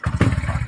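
A motorcycle with a damaged, bent engine revs in a brief, loud, close burst, its rough pulsing idle carrying a metallic clatter.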